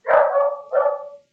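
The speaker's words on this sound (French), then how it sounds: "La chienne n'arrête pas d'aboyer dehors" A female dog barks twice outdoors, two loud, close barks about half a second apart, alone without talk.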